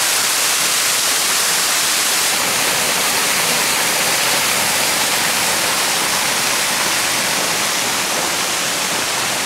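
Steady, loud roar of water pouring down Somersby Falls in Australia, a continuous broadband rush with no breaks and no voices.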